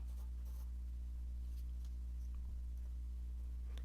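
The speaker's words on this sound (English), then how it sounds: "find the postage stamp that fits on it the best, the rectangle, and just use a" A pencil traces around a postage stamp on paper, faint scratchy strokes in short irregular bursts, quiet and close against a low steady hum.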